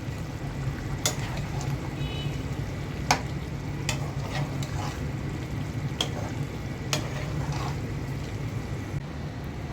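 Meat mixed with blended cumin fries in a pan with a steady sizzle, broken by a handful of sharp spoon scrapes and clacks against the pan at irregular intervals, close by and with no talking.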